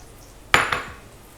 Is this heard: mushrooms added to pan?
yes